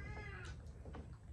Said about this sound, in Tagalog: Kinalmot ng pusa na bulag.